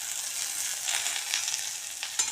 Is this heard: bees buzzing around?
no